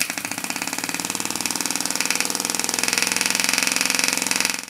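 A 3D-printed multi-cylinder air engine running on compressed air at high speed, giving a loud, rapid, even mechanical chatter of pulsing exhaust and clattering parts that holds steady throughout before easing slightly at the end.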